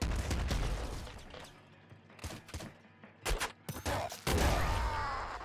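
Gunfire from the video game Nuclear Throne rings out in rapid bursts, with dense volleys at the start and sharp repeated shots toward the end, loud and close.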